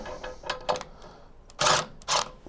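An impact wrench drives the first bolt of a water closet carrier against a wall, with a few short clicks followed by two loud, broad bursts of hammering close by.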